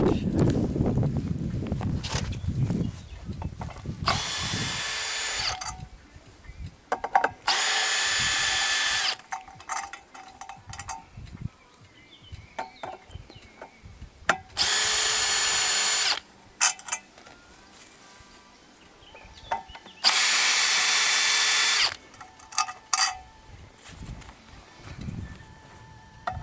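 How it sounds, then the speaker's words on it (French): A power drill unscrews parts of a PS7910 machine from Sciages, probably a log-drying unit, in repeated loud whirring bursts of about one to two seconds each, with quieter mechanical clicks and handling noises between them. "on va dévisser la machine"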